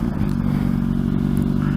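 A Honda CBR 600RR motorcycle accelerates hard from a stoplight, its engine a loud, continuous close-up roar with heavy wind rumble and no talking.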